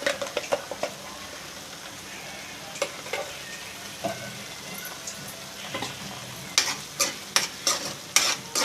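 Ginger paste fries in hot oil with curry leaves, a steady soft sizzle broken by sharp clicks and scrapes of a spoon stirring in the pan.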